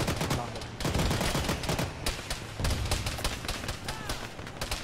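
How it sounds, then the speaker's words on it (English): Continuous bursts of automatic weapon fire in the military shooter Arma during a ShackTac session, sharp cracks stacked densely over a noisy battlefield bed from start to finish, loud and close. "I'm shooting him"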